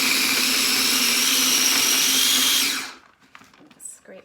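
A blender whirring a smooth mixture with cinnamon: a loud, steady high-pitched whine lasting a few seconds, then cutting off, followed by faint handling noises.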